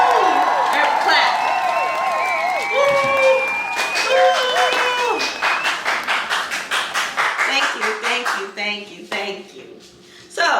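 Rhythmic hand claps in a home kitchen, a series of sharp evenly spaced claps following singing and talking voices, with a few irregular claps as it ends.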